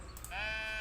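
Sheep bleating in the cozy building game Tiny Glade, a single sustained, wavering bleat rising in after a soft click and holding steady to the end.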